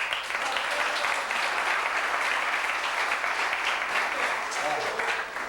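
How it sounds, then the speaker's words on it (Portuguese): Audience applause during a morning session of a church retreat, a roomful of people clapping in a thick, continuous wash at steady volume, close and without pause. "Todo boleiro deve aplaudi-lo."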